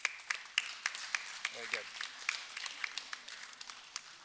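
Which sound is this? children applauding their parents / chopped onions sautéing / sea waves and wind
children applauding their parents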